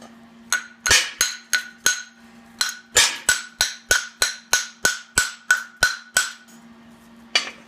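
Hammer chipping slag off the edge of plasma-cut steel plate in a welding shop. About sixteen sharp metallic taps come in a quick, even rhythm, loud and close, over a low steady hum.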